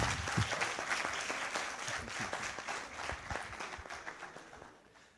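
Audience at an educational products exhibition claps for a birthday, a dense, steady burst of applause that thins out and fades toward the end.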